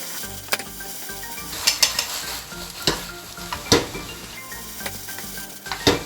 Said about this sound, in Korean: 수분이 증발할 때까지 잘 볶아주시면 됩니다